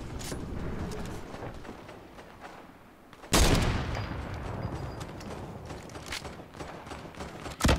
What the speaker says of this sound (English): Those guys realize they're just shooting each other